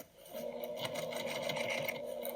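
Sewing machine top stitching a patchwork basket with navy blue thread at a stitch length near 3, running slowly in a steady, even whir with a rapid needle patter, close and continuous.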